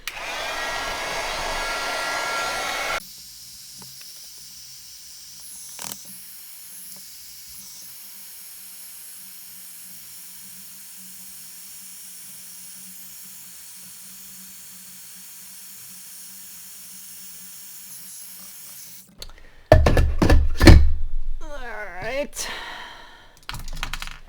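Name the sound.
heat tool blowing hot air on stamped paper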